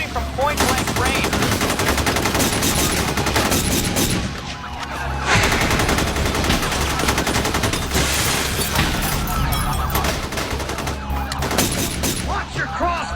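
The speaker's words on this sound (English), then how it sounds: "Shots are firing everywhere." Dense bursts of machine-gun and rifle fire crackle through a bank robbery action scene, sustained and loud with a brief lull midway, while voices shout beneath the shooting.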